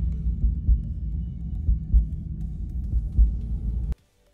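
Pulsing heartbeat ambience in World of Warcraft's Scholomance dungeon, a steady low thumping rhythm of double beats under a dull hum, ending abruptly.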